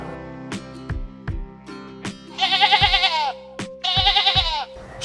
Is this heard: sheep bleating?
yes